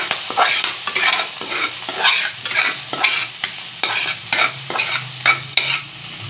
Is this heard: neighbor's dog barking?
no